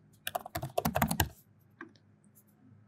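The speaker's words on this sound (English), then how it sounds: "So let me quickly now enter my seed phrases here." Fast typing of a MetaMask seed phrase on a computer keyboard, a dense burst of close keystrokes for about a second, then a few scattered taps and quiet.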